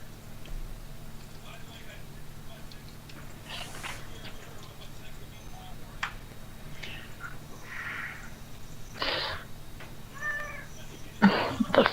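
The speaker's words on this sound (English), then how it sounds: "I heard a cat." A cat meows a few times during a live broadcast, with short, faint cries rising over a steady background hum and some quiet vocal sounds.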